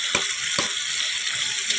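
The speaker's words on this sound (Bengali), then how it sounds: "এবারে মটনটা কষাতেই থাকবো বন্ধুরা।" Mutton stir-fried for kosa in a pan gives a steady hiss of sizzling, broken by a few sharper stirring scrapes and pops close by.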